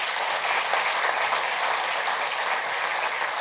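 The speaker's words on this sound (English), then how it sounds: "Give them a round of applause," A large audience at an annual economic development meeting gives sponsors a steady, dense round of applause that stays even and loud throughout.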